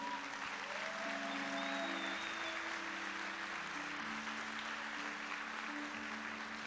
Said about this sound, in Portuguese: Dá uma salva de palmas para esse Deus, cara.